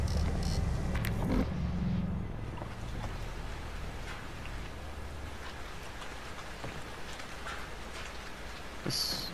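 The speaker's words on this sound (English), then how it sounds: "Actually raining blood." Steady rain of blood falling in the horror game Outlast 2, a continuous dense hiss of drops that holds at an even level throughout, with no talk over it.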